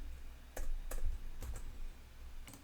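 A handful of quiet, separate keystrokes on a computer keyboard, spaced irregularly in a hushed room while text is typed into a Scratch project.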